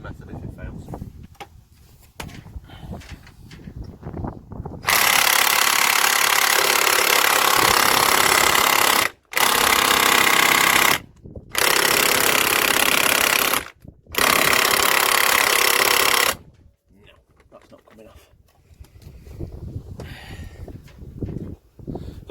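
A 3/4 inch impact gun hammers at the crankshaft pulley bolt of a Land Rover Freelander TD4 in four loud, continuous rattling bursts with brief gaps between them, framed by quieter talk before and after.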